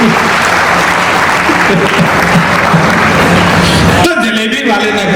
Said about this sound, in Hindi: तालियां जरा पीछे तक बताएं